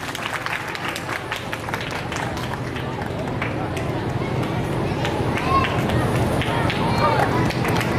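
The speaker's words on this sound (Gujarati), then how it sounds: "બંને આપણે જોરદાર તાળીઓથી વધાવી લઈએ." A crowd at a ceremony applauds an honoured guest with strong, sustained clapping, a dense ongoing patter with murmuring voices mixed in, growing slightly louder toward the end.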